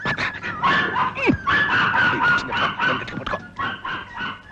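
A dog barks angrily and repeatedly up close, with sharp yips and whiny snarls in a rapid, agitated stream.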